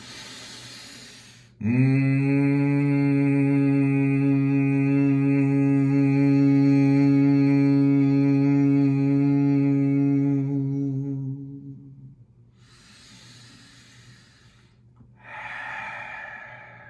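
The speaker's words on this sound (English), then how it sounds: "1 Brahmari to clear, deep breath in." A steady, resonant humming exhale from Bhramari breathing in a yoga practice holds one pitch for about ten seconds, then fades into soft breaths and quiet room sound.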